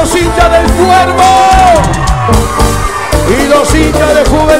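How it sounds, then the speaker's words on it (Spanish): Football supporters of Cuervo yell and chant at a live cumbia show in Salta, Argentina. A loud, dense wash of massed voices runs over a steady, pulsing band. "¿Y dónde está el grito de los hinchas del Cuervo?"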